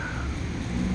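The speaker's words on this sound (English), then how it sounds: "I got caught in the rain again. It's coming down pretty hard" Heavy rain pours down hard outdoors at night near a parked car, a dense, steady hiss that fills the whole moment with no voices over it.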